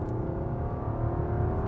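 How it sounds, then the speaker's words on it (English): A Rolls-Royce Ghost accelerates at full throttle, its engine giving a steady, smooth, rising hum heard from inside the car, with no talk. "you get to hear a bit more engine noise, and actually it makes quite a nice noise"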